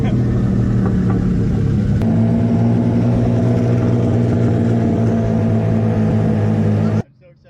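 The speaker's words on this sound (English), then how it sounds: "It engine brakes really hard." Loud, steady engine drone with deep rumbling harmonics from a twin-engine AWD Mazda MX-3 drift car engine braking hard, holding for several seconds before cutting off abruptly near the end.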